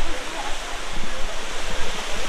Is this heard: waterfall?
yes